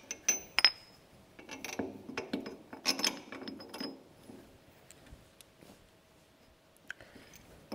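A lock nut is worked onto a bolt in a series of quiet, close metallic clicks and clinks. Short bursts of ratcheting come in irregular groups, with near silence between them.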